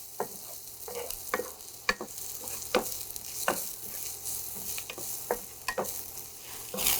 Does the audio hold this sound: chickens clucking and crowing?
no